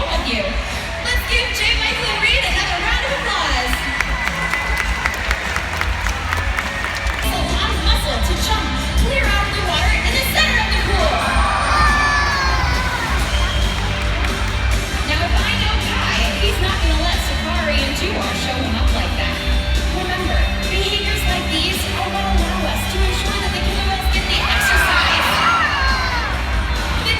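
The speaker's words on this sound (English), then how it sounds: "Let's give Jay Michael and Reed another round of applause." A stadium crowd at a SeaWorld San Antonio killer whale show applauds and cheers loudly and continuously, with children shouting and whooping amid a dense, sustained roar and voices mixed in.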